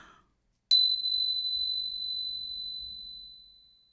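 A meditation bell struck once after a brief pause, giving a bright, clear ring that hangs and slowly fades over several seconds against near silence.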